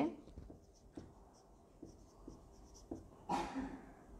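A teacher writes the given values during a resistivity lesson in basic electricity, with soft, quiet scratching strokes and light taps in short bursts, ending in a slightly louder flurry.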